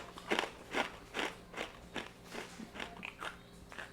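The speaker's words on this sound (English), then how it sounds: "I'm going to take a couple of bites here. First, I'm going to start with one of the garlic rye chips." Repeated crisp bites into crunchy smoked garlic rye chips from a Chex-style snack mix, about ten sharp crunches in an uneven rhythm, close and fairly quiet, with no talking.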